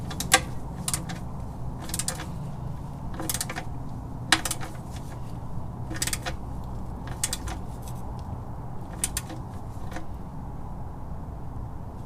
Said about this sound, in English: I'm going to use my inch-pound torque wrench